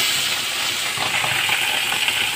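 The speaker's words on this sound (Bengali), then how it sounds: "আর এইদিকে ট্যাংরা মাছটা আমি ভেজে নিচ্ছি" Tangra fish, half fried, hiss and sizzle in hot oil in a pan, a dense continuous crackle up close with no voices.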